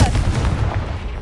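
A Confringo spell blast in a Hogwarts video game goes off as a sharp, loud booming burst at the start, then a brief rumbling decay.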